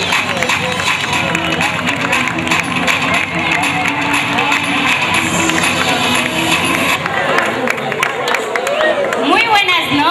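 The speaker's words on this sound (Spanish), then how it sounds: "vamos a recibir con un fuerte aplauso, damas y caballeros, a la candidata número 1" An audience at a parish queen pageant greets candidate number one with applause and cheering, a loud, sustained crowd roar of clapping and chatter filling the hall for about ten seconds.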